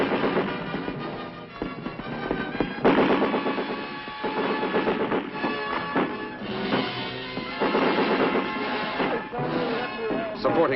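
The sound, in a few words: enemy mortar and automatic weapons fire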